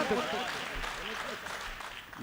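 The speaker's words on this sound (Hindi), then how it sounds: "जोरदार तालियां बजा करके आमंत्रित करिए मोहन मुंतजिर" A crowd at a poetry gathering (mushaira and kavi sammelan) in Pant Nagar, 2019, applauds loudly to welcome the poet Mohan Muntazir to the stage. The clapping runs throughout beneath a voice.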